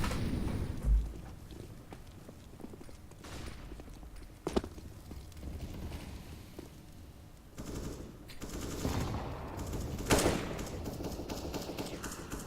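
Gunfire rattles through a tactical shooter match between fully equipped teams, with bursts of rapid automatic shots and single cracks layered over a constant busy game din, loud and continuous with a few sharp peaks.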